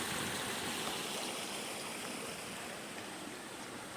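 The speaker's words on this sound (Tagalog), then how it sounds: "Dahil malakas nga ang ulan, nagkaroon na ulit ng tubig dito sa kanal" Steady rushing of water flowing along a canal after heavy rain, a constant broad wash of sound with no talking over it.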